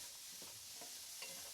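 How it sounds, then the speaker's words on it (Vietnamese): Carrots and shiitake mushrooms being stir-fried in a pan, with a soft steady sizzle and a few brief scraping stirs of the spatula, close by and fairly quiet. "Đảo cho đều."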